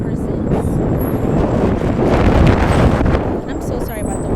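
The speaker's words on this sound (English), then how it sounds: "I'm so sorry about the wind." Wind buffets the microphone outdoors, a steady loud low rumble with gusty roughness throughout.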